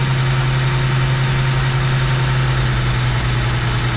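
A car engine idles steadily during adjustment of a Rochester 2G carburetor, with a loud, even low hum and rumble close by and no talking.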